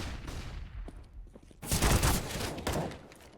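Rifle fire rattles in bursts during a Counter-Strike: Global Offensive match on Dust2, a dense volley of close shots swelling loudly midway, with no commentary over it.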